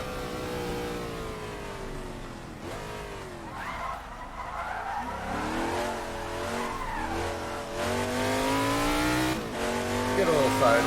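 Tires of a Shelby Daytona lock up and skid under hard braking into a steep downhill corner of the Isle of Man TT course in a racing video game, a long screeching slide over a droning engine, with a voice talking throughout.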